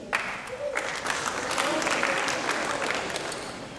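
Steady audience applause at a 2012 Concord High School senior awards ceremony, a dense roomful of clapping that starts abruptly and holds at an even level for several seconds.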